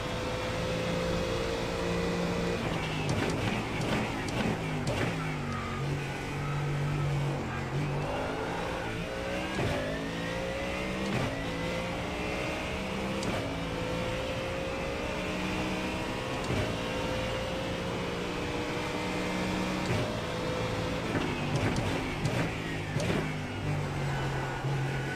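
Ford Mustang GT3 race car engine at speed on track, loud and close from onboard, rising and falling revs with repeated sharp upshifts and downshifts across a long continuous stretch, no talking.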